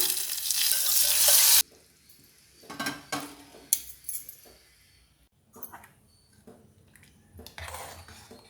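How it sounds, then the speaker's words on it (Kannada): A cumin and black pepper tempering is poured over majjige huli, a buttermilk curry made with chana dal, and bursts into a loud sizzle for a second or two before fading into scattered spoon and pot clinks. "ಒಗ್ಗರಣೆನ ಇದ್ರ ಮೇಲೆ ಹಾಕ್ಕೊಳ್ಳೋಣ ಈಗ"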